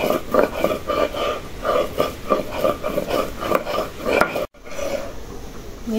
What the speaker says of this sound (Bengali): দেখি এখন মরিচটা বাইটে দিই।